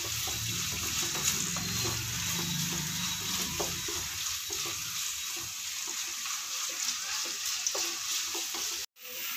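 Ingredients for chana masala sauté in a hot pan, frying steadily until browned, with a continuous close sizzle and occasional stirring scrapes and a brief pause near the end.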